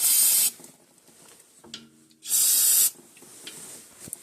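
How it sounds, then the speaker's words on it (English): Aerosol brake cleaner hisses onto the brake line of a 2018 Dodge Journey in two loud bursts, the second about half a second long, separated by quieter workshop noise. "I want to give this a good hosing with some brake cleaner"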